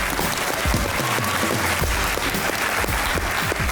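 A studio audience at a comedy talk show keeps clapping steadily for guest Usman Mazhar, a close, full round of applause that holds at an even level throughout.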